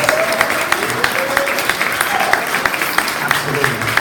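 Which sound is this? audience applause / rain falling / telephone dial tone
audience applause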